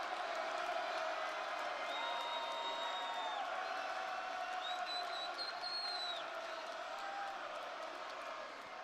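Arena crowd at a WWE Smackdown wrestling event, a steady dense roar of cheering and chatter with occasional whistles, continuous and moderately loud throughout.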